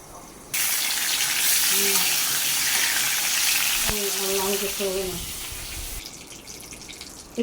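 Pumpkin and potato pieces frying in a covered pan, giving a steady, loud sizzling hiss that runs almost the whole time and softens near the end.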